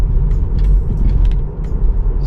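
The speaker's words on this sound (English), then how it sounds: "Car slowing down right now before the actual curve comes to" A car slows from highway speed before a curve, heard from inside as a steady low road-and-engine rumble with light rattles and ticks over it, no talk.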